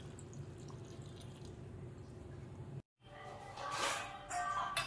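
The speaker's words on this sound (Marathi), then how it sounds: "आता पाणी ओतून घेते।" Water runs into a cooking pot holding chopped dhesa and salt. It starts as a soft, trickling flow, breaks off for a moment, then returns as a fuller splashing pour that stays quiet overall.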